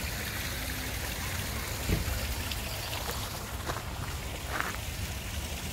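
Water runs and splashes steadily in a garden fountain at an organic village on South Africa's Garden Route, a close, even, continuous wash with no voices.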